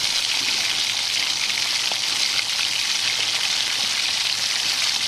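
Mustard seeds and cumin crackle in hot oil as a dense, continuous, close sizzle with fine pops throughout, with no talking.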